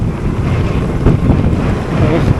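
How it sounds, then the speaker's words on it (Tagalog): Strong wind gusting outdoors along a jogging road beside floodwater, roaring loudly across the microphone in uneven surges with a low rumble and no talking. "Sarap ng hangin."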